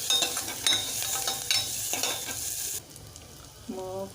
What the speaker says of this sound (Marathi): आवडेल तेवढा कांदा टाका आणि थोडी हळद घाला. मग चांगले ढवळून घ्या.